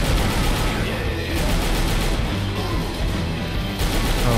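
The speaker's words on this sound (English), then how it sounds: "Oh my god, gotta keep shooting." Sustained rapid gunfire in the zombie shooter Left 4 Dead 2, with dense overlapping shots and crashes forming an unbroken, loud barrage throughout.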